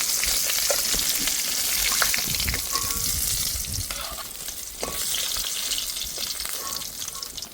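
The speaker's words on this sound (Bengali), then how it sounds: "ঠিক এইরকম করে মাছটা ভেজে নিয়েছি" Pieces of katla fish fry in hot oil, giving a constant close sizzle and crackle with occasional stirring clinks and no speech.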